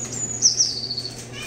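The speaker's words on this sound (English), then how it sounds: "The sounds of singing birds has replaced the screaming fans." Birds sing and chirp with high, clear, slightly sliding tones in an empty German football stadium with no fans, a short bright phrase heard over a low, steady background hum.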